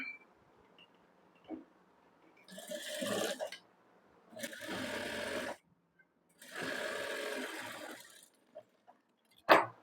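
Sewing machine stitching a button strip onto a princess-cut blouse at a half-inch seam margin, running in three separate bursts of steady whirring with short quiet pauses between them and a brief click at the end.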